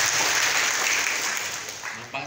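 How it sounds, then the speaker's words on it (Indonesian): Audience applause at a talk on political education during elections, a dense burst of crowd clapping that fades slightly toward the end, with a voice cutting in at the close. "Tepuk tangan buat Zikri gitu ya."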